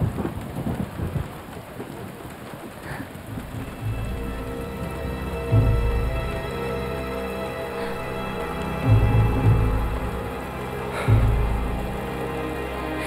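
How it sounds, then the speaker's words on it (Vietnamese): Heavy rain pours in a dense, constant hiss while deep rolls of thunder rumble repeatedly underneath, several swelling booms rising over the downpour with no voices. "Nam Kinh mưa rất lớn"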